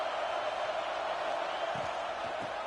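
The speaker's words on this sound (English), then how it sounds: "And here comes the noise. This crowd is trying to inspire this defense to make a big red zone stop." A constant, distant roar from a stadium crowd at a college football game between Tennessee and Texas, as the home fans get loud for a red zone defensive stand. The noise holds even throughout with no break.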